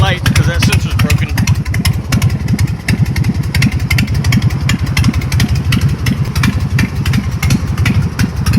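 A 2002 BigDog motorcycle engine runs loud and steady in a rapid, chugging low rumble that pulses throughout, close by and without pause.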